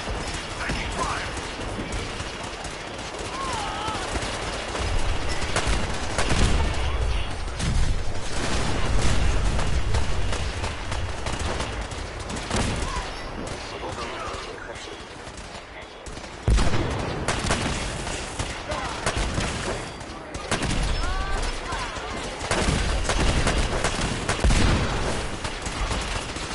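Dense rapid gunfire and clanking weapon mechanisms from the video game Fallout 4, loud and sustained throughout with bursts and short pauses, over layered game effects and music.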